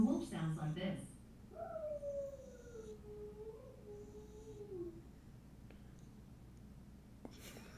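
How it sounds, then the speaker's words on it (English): A wolf howl from Google Assistant follows a short spoken line, one long gliding, wavering cry that fades out, quiet and indoors, with a faint tap near the end. "A wolf sounds like this."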